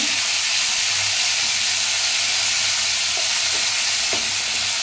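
Mango pieces fry in a pan for a mango dal, giving a loud, steady close sizzle with faint stirring clicks throughout.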